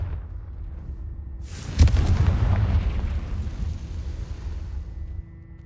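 In Hogwarts Legacy the Confringo fire spell sets off a single sudden blast, a deep booming burst with a crackling roar that fades slowly over a few seconds after a short quiet lead-in.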